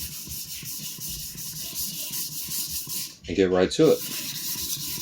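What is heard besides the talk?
sharpening a sujihiki knife on a 400 grit whetstone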